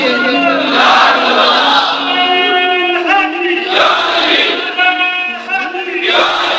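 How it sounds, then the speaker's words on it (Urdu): A large crowd at an Islamic religious gathering on the Battle of Badr chants religious slogans in loud unison, with forceful shouted phrases that rise and fall in repeated bursts and short pauses between them. "آج تو ٹھنڈا ٹھنڈا نعرہ نہ لگائیں"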